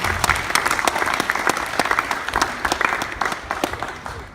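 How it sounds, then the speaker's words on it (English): Wedding guests applaud together at a reception, a dense, lively round of clapping with sharp individual claps standing out, steady and close throughout before easing slightly at the end. "Let's give those guys a big round of applause."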